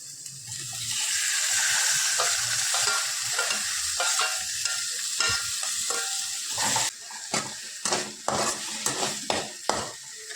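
Onion and tomato sautéing in a pan for Kerala egg thoran, with a steady sizzle and frequent stirring scrapes and clinks of a spoon against the pan, close and continuous, with no talk.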